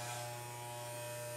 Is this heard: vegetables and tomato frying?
no